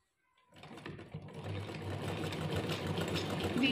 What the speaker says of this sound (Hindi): तो यहाँ पर हम दोबारा जो है सिलाई चला देंगे।